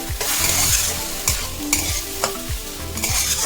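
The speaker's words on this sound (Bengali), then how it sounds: "চালটা দিয়ে ভালো করে নেড়ে নিতে হবে।" A spatula stirs washed rice through hot oil in a kadai for chicken biryani, giving rhythmic, repeated scraping strokes over a steady sizzle, close and fairly loud.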